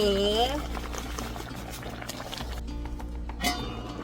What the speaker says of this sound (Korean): 이야, 잘 끓는다.